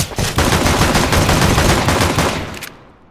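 Sustained automatic gunfire from Counter-Strike: Global Offensive, a loud dense burst of rapid shots running continuously for nearly three seconds before tapering off, with no talk over it.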